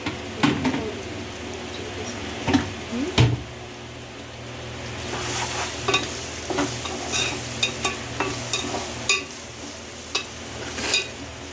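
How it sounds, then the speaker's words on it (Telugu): Prawns sizzle in a pan with salt and chili while a spoon stirs and scrapes; the frying hiss runs steadily under a few sharp clinks and thumps of utensil against pan. "ఫ్రాన్స్ కూడా కొంచెం మంచిగా వేగేంత వరకు ఉండండి."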